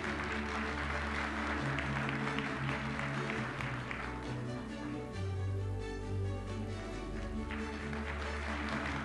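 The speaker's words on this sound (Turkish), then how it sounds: "Bir kez daha alkış rica ediyoruz." An audience applauds at an awards ceremony while amplified music plays loudly underneath, the clapping a busy, continuous patter spread across the hall.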